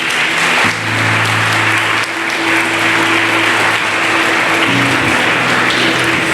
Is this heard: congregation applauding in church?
yes